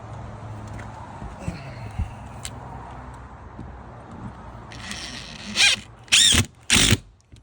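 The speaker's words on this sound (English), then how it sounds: "When you screw, you want to start on the hinge side." Screws are driven into the hinge side of a mobile home door as a drill whirs in three short, close, loud bursts toward the end, after quieter handling noises.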